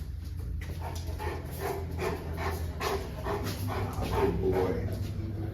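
A mastiff dog whimpers and lets out short barks and pants amid steady, dense background noise, with a few faint voices.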